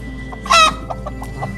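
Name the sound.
chicken clucking while being caught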